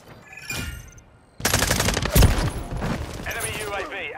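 Bursts of automatic gunfire from a military shooter video game, loud rapid volleys crackling close by, mixed with game voices and effects.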